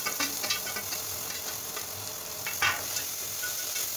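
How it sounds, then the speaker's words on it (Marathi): Ground masala paste fries in oil for egg curry, making a soft continuous sizzle with a few faint stirring scrapes and no voices. "आता हे वाटण चांगलं ह्या तेलावरती परतून घेऊ।"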